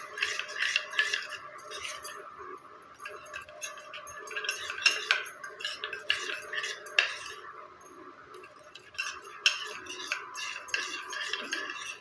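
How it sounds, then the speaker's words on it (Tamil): A spoon clinks and scrapes steadily against a small bowl while ingredients are mixed into mustard oil for a homemade hair oil; the light metallic taps run close and continuous, with no talking. "இப்போது நம்ம அந்த ஆயிலோடு சேர்த்து இதை நல்லா மிக்ஸ் பண்ணிக்கலாம்."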